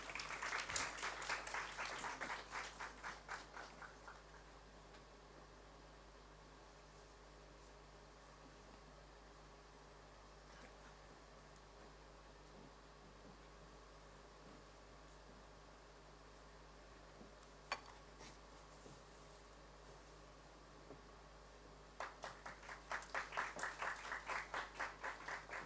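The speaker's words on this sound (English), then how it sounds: "Can we please have a round of applause for the same?" A workshop audience gives a round of applause in two faint bursts, a few seconds of scattered clapping at the start and again near the end, separated by a long, near-silent stretch of room hum.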